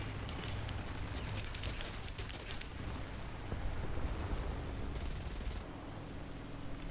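Aircraft gunfire in War Thunder, aimed at a BB during Focke-Wulf 189 gameplay: dense bursts of rapid firing crackle through the first three seconds over a steady engine roar, and a shorter burst follows near the end.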